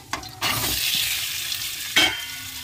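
Potatoes coated in turmeric and salt frying in hot oil, a loud close sizzle that flares as they are stirred, with a second burst of scraping and spatter near the end.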